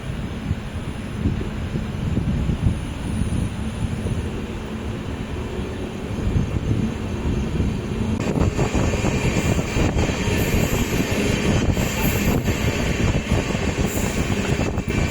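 The Rockfort Express passenger train rumbles along the tracks with a continuous loud roar that grows brighter and rattlier partway through, with no talking.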